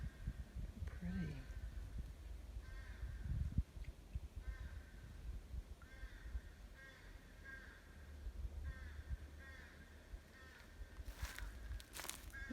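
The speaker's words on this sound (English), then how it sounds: "The bird is not happy." A bird calls repeatedly in short harsh bursts at a steady pace, moderately distant, over outdoor rustling and low background noise, near cypress trees at Toledo Bend.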